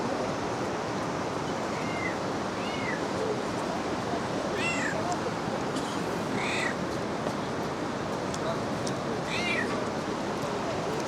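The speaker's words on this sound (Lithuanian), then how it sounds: "Sakartveliškas kačiukas." A kitten in Kutaisi, Georgia gives several thin, high meows at intervals. The meows are faint over a steady wash of outdoor noise and murmuring.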